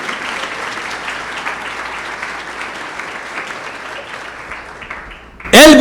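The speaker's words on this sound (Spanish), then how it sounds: "dale un fuerte aplauso a Él" A church congregation claps loudly and continuously through a Spanish-language sermon, the sustained applause easing slightly before a voice cuts in at the end.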